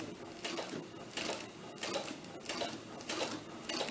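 A sewing machine stitches a doll T-shirt while skipping stitches, running in a continuous rapid chatter with slight pulsing surges, close but fairly quiet and without talk.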